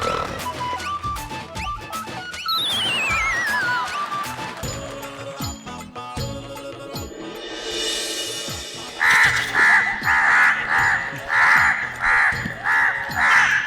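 Crows caw loudly and repeatedly at close range, harsh calls coming in quick bursts, mixed with other sharp sounds, clatter and a rising whistle-like tone, with no talking.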